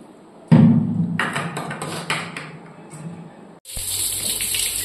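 Water runs from a tap into a pot, starting with a strong gush and continuing steadily as the vessel fills, with a brighter rushing stream near the end.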